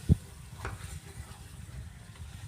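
Chicken pieces being stirred in a pot for biryani, a quiet steady sizzle of frying with a soft scrape of the spoon near the start, no voices.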